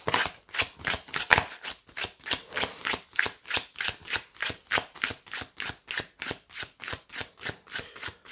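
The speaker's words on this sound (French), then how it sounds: "Nous allons mélanger les cartes en premier temps." A deck of oracle cards is shuffled by hand in a steady, rapid rhythm of crisp riffling bursts, about three per second, close and continuous with no talking.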